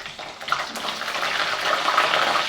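Cauliflower florets going into hot oil that has just fried potatoes for a Bengali cauliflower curry: a steady, loud, close sizzling hiss that rises slightly and holds.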